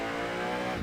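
A car races through traffic in Burnout Paradise Remastered, its engine giving a steady, loud, high-revving drone that lasts under a second.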